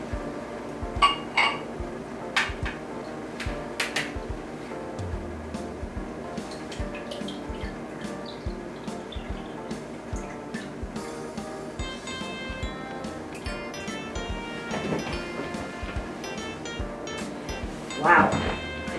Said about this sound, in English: now I'm going to fill the first glass up as far as I can with water